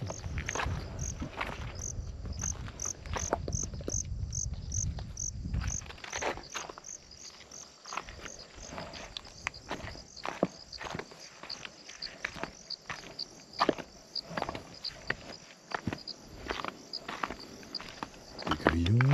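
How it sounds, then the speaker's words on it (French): Crickets chirp in the bush at night in steady, high, repeated pulses, with footsteps crunching along a path and quiet voices in the first few seconds. "des grillons."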